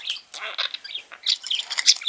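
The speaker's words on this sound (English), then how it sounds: "What a happy bird." A pet bird in a toy-filled enclosure gives a quick run of bright, close chirps and tweets, fairly soft, with no voices over them.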